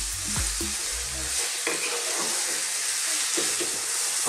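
Thin chicken slices sizzle steadily in butter chicken curry sauce over medium-high heat, a continuous broadband fry with a few stirring scrapes near the start and occasional spoon knocks, close and fairly loud with no talk.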